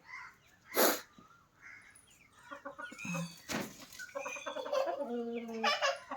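A chicken clucks in short, uneven bursts nearby, with a sharp thump near the start and soft background noise between calls.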